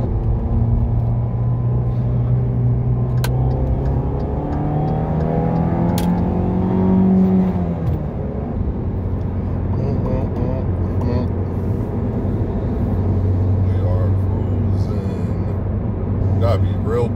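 Supercars, among them an Audi R8, rumble past on a road during a cruise, with a rising engine swell and a revving pass midway, then a lower steady drone; voices talk over the traffic.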